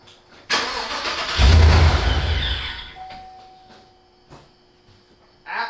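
A car engine with its mass airflow sensor disabled, running in speed density on a zeroed VE table, cranks and briefly catches with a loud rough burst up close, then fades and falls quiet.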